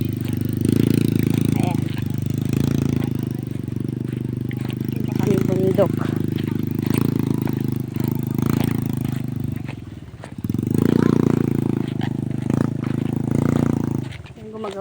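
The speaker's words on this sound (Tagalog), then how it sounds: "Ayan, gumagawa sila ng tulay." Machinery at a bridge construction site roars in a loud, droning engine tone that rises and falls in surges, while people talk over it nearby.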